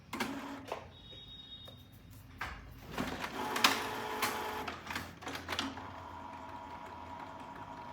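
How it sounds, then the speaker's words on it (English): A Canon G337 inkjet printer runs its first-time setup at home, giving off intermittent mechanical whirs, clicks and short motor bursts at close range with quiet gaps between them. "I'm trying not to shift the printer as it, you know, is setting up for the first time"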